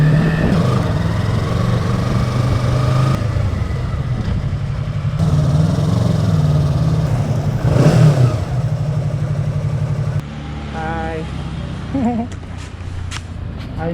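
A Yamaha R3 motorcycle engine rumbles and revs steadily close by, with uneven surges and jolts as it rides over a potholed road, some talk mixed in.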